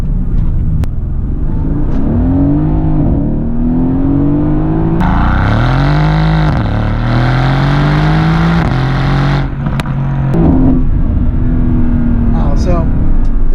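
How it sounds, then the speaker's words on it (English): Mercedes-AMG GT S with its exhaust flaps open, a loud close-up engine roar with rising revs and gear changes, deep rumbling pulls that swell and ease, running continuously throughout. "I will open them so you can hear the exhaust and the differences with the flaps closed versus open."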